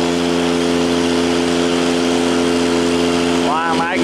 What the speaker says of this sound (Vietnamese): Máy kia chạy cái lực hơi nén bơm rất là nhanh nha.